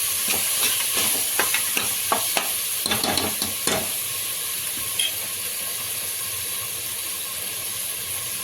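Minced mutton keema fries on high heat, a constant loud sizzle with a run of scraping stirs and spatula clicks early on, then steady frying alone.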